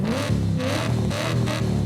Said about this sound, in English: There's your standard one.